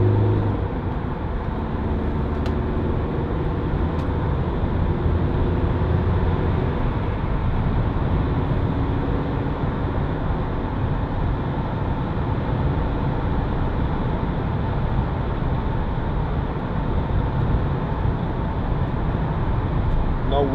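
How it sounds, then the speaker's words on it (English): Steady diesel drone from a 2008 Vauxhall Combo 1.7 CDTi panel van, running continuously with broad low rumble and road noise throughout, no speech over it. "Nice diesel engine."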